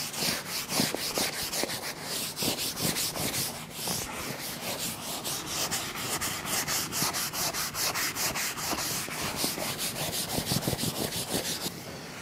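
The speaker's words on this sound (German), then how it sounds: "mit der rechten Hand schleife ich eben drüber" Rhythmic hand sanding of a leather sofa, quick repeated rubbing strokes of abrasive on the surface, close and continuous with a steady back-and-forth pattern.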